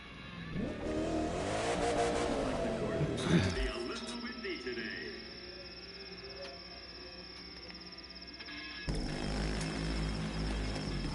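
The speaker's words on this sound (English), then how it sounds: "Quick dirt bike race to finish the song." A dirt bike engine in The Crew 2 revs and climbs in pitch during a race, loud at first, then gives way to a steady hum before a fresh burst of engine noise near the end.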